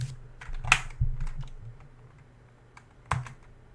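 Keys are pressed on a computer keyboard to enter a decimal point, numbers and enter: a few sharp, close clicks spaced irregularly, with a louder final keystroke after a quiet pause.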